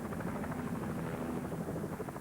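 A helicopter drones steadily overhead in a polar bear encounter, its rotor a continuous loud throbbing roar with no voices.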